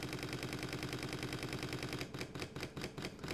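Camera shutter firing a rapid burst while writing to a Lexar CFexpress Type A card, a steady fast mechanical clatter for two seconds, then slowing into irregular separate clicks, close and fairly loud with no talking.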